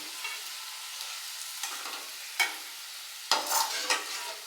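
Ingredients for pepper chicken fry in a pan with a soft, steady sizzle, broken by a few sharp stirring and scraping strokes that grow busier toward the end, close and clear, with no voices.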